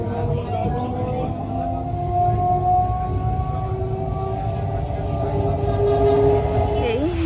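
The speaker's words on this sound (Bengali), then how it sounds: "বসে পড়েছি ট্রেনে" A Shantipur local train runs along, heard from inside the carriage as a steady low rumble of wheels on rails, with faint squealing tones near the end.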